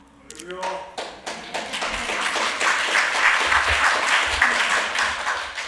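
A Sunday worship congregation breaks into applause in church, starting with scattered taps and swelling into steady, moderately loud clapping. Talk carries on underneath.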